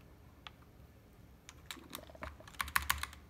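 Keycaps being fitted onto a custom keyboard make a scattering of sharp plastic clicks and taps, sparse at first then clustering into quick bursts near the end, close and fairly quiet.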